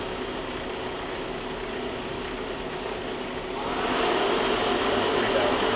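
Clausing-Kondia FV-1 CNC vertical mill with an R8 spindle, running at 2000 RPM in a shop. A loud, steady mechanical whine and hum rise in level partway through, with no speech.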